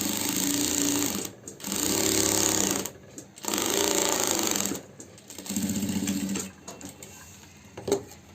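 An electric sewing machine stitches a shirt collar in rapid bursts, starting and stopping several times with short pauses between runs, loud and close with no talking.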